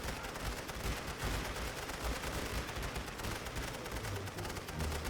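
Dense, continuous machine gun fire and scattered gunshots rattle through a Great War Western Front battle in a historical strategy game. The crackling fusillade stays steady and busy throughout, with no voices.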